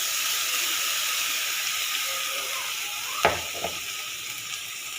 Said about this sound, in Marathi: मसाला टाकते आता.